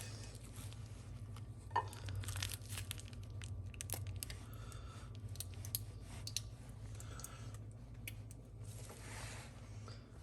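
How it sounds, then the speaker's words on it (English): Scissors snipping the tip off a plastic sauce bag filled with filling for a Moroccan lamb meatball pita sandwich, heard as faint, close clicks and crinkles over a low steady background hum. "So I'm just going to squeeze this and cut the tip."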